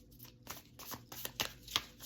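A deck of tarot cards is shuffled by hand, with close, crisp riffling bursts and soft slaps repeating in an irregular rhythm, no one talking.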